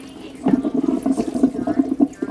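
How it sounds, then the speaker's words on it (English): Cold tap water running over drained noodles for a red chicken curry, a steady close splashing stream with irregular spattering pulses as the noodles are rinsed. "drain and clean it with cold water"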